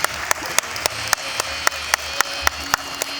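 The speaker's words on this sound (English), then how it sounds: "big round of applause" Sparse, evenly spaced claps, roughly one every third of a second, sharp and close, from just one or two people rather than a crowd, at a college-program event.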